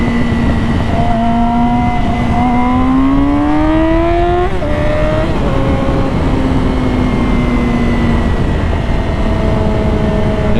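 A Yamaha R6 sport motorcycle's engine runs loud and steady while being ridden, its pitch climbing through a rising rev before dropping at a shift, then settling into a lower cruising drone with continuous wind rush.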